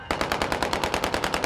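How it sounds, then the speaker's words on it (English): Rapid automatic celebratory gunfire rattles off about a dozen sharp shots in a fast, even burst, loud and close, with no voices over it. "Celebratory gunfire, so much hope and so much peril."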